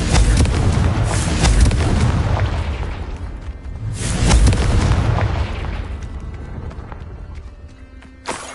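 Confringo fire spell blasting in the Hogwarts Legacy video game, two loud booming bursts with a long rumbling decay after each, the second landing about four seconds after the first, with no talking.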